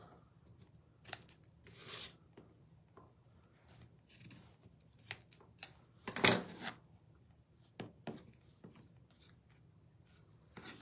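Scissors snip through twine tails in a craft project, quiet scattered cuts with one sharper, louder snip in the middle amid faint handling rustle.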